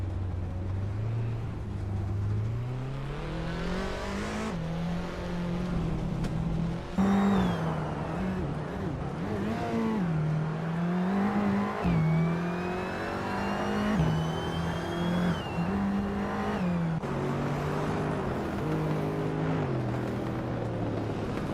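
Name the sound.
Mercedes-Benz A45 AMG race car engine revving, from a racing video game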